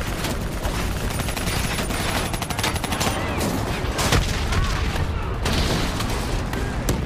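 Dense, continuous automatic gunfire rattles nonstop against an armored personnel carrier in the Call of Duty Black Ops 3 video game, loud rapid bursts layered with booms and battle chatter throughout.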